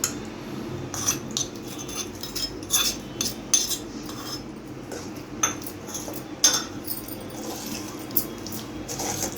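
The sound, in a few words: tempering being mixed into mango pickle with a spoon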